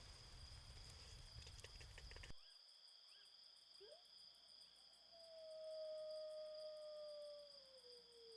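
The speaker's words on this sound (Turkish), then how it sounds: "Az önceki sesleri duydun mu Ateş? Çakallar bizi uyandırdı." Jackals howl at a winter campsite in a valley: a long, rising and falling wail carries from a distance over steady insect-like chirring and a faint hum, no talk.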